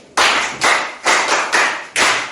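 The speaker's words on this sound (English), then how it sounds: "Let's clap for her." Children in a classroom literacy lesson clap for a classmate in five distinct, evenly spaced group claps, close and loud with no talking.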